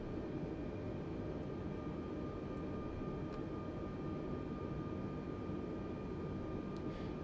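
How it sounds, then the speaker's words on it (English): An airliner's jet engines in Microsoft Flight Simulator 2020 hold a steady, broad roar with a faint whine, ongoing and even throughout as the thrust comes back, with a few faint clicks. "Hear the thrusters coming back a little bit."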